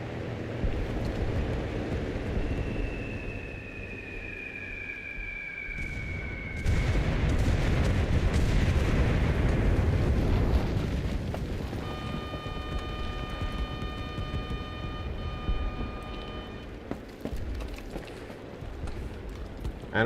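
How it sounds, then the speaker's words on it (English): Bombing run explosions in Enlisted, heard as continuous heavy rumbling booms and blasts outside the immediate area, swelling and fading over a long stretch of battlefield noise. "is a bombing run outside of our immediate area"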